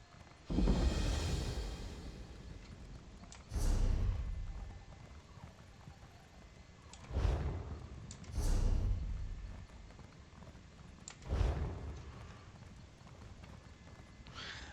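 Horse hooves clip-clop in several bursts of steady trotting in the video game Elder Scrolls Online, separated by quieter stretches with a faint background hum.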